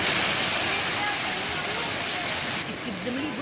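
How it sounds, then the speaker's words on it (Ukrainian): Roaring, hissing rush of a water main burst, a column of water with mud and stones bursting through asphalt, loud and continuous like a torrent, with a voice talking briefly over it near the end. "вирвався стовп води із багнюкою та камінням"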